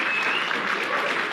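A live audience at a Buckley Institute event applauding in a brief, steady burst of clapping, fairly close and even.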